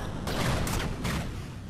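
Gunfire from Guardians units in the real-time strategy game 8-Bit Armies: a dense, rolling fusillade of several overlapping blasts over a steady low rumble, loud and continuous with no talking.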